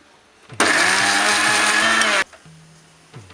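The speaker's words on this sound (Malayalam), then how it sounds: "ഇതിലോട്ടൊരു ശകലം വെള്ളവും കൂടെ ഒഴിച്ചിട്ട് അരയ്ക്കാം" A kitchen mixer grinder whirs loudly as it grinds coconut with a little water, starting abruptly and running steadily for under two seconds before cutting off, with faint clicks around it.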